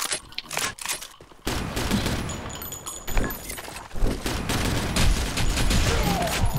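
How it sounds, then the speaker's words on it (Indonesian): Rapid video-game gunfire with bursts of automatic fire and single heavy shots, loud and close, with thuds and clattering mixed in over a busy game soundscape. "Tembak tu berhenti."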